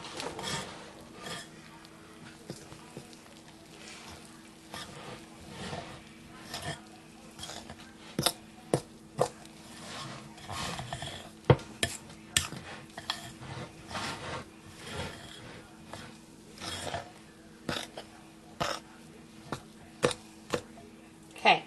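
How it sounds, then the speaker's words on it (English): A big fork stirs buttermilk into biscuit mix in a bowl for cinnamon raisin biscuits, giving scattered scraping and clinking taps against the bowl, soft and irregular, over a low kitchen hum. "and just stir."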